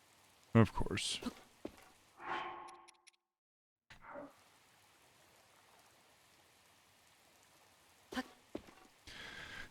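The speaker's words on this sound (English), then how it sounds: "Oh, wait, it's raining." Rain falling in the video game Breath of the Wild, a soft steady patter hissing low in the background while a player talks over it in short bursts.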